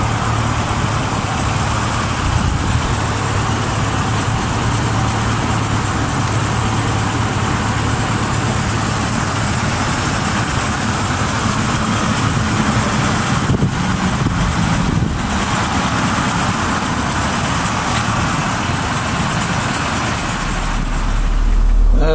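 A 1987 Itasca Phasar motorhome engine idles with a steady low rumble, close and continuous, with a faint hum of background noise throughout.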